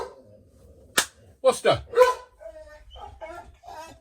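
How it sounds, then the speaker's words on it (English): A house dog barks sharply at another dog passing outside, a handful of loud, abrupt barks in quick succession, with a person talking around them. "my dog has now seen a dog walking past the house"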